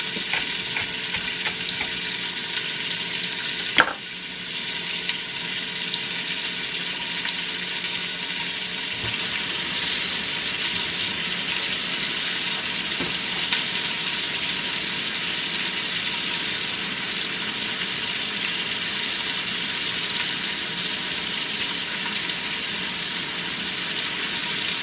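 Sausage browns in a pan for red beans and rice, giving a loud, steady, close sizzle that runs unbroken, with an occasional clack of a utensil stirring it and no talking.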